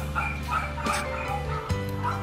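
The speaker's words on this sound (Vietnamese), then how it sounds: "Đây là bố và mẹ của đàn chó Bruno và Laika" Rottweilers and their puppies at a dog kennel give repeated short barks and yips, fairly close, over a steady hum of background noise.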